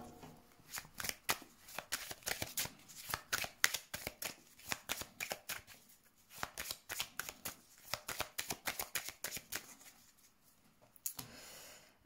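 A deck of playing cards being shuffled and cut, with rapid riffling bursts and soft slaps in quick repeated runs, close but quiet, and a brief pause before a final cut near the end.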